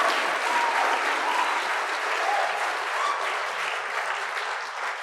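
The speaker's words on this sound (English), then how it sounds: "Could you please give him another round of applause?" An audience claps in a dense, sustained round of applause that fills the room, holding steady throughout and easing off only slightly at the end.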